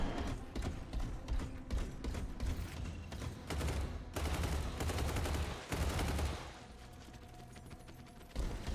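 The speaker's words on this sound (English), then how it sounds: "What is shooting at me?" Sustained bursts of mech weapon fire from Hawken Reborn, dense and loud with heavy low rumbling impacts, broken by brief pauses and a quieter stretch with a steady mechanical hum near the end.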